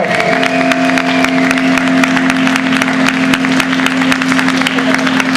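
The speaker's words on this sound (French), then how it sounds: "Allez, applaudissez-les." A festival audience at Utopiales 2010 applauds loudly and continuously, with dense close clapping throughout and a sustained tonal hum beneath it.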